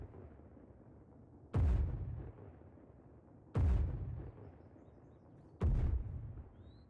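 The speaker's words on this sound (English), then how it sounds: "Where the mortar's hitting now?" Mortar shells land in the ARMA 3 video game, three heavy booming impacts spaced about two seconds apart, each a sharp blast with a rumbling tail, over quiet background.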